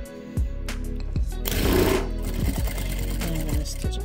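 A sewing machine stitches minky fabric for a snood, its motor running in a steady continuous whir with a louder burst in the middle, close and clear with no talking.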